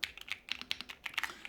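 Close, crisp keystrokes on a NuPhy mechanical keyboard come in a brisk, irregular patter, quiet and on their own.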